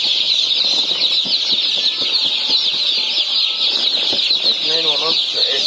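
Sasso breed chicks crowded together, a dense continuous chorus of high cheeping with bursts of wing flapping, close and loud, with a voice speaking faintly underneath.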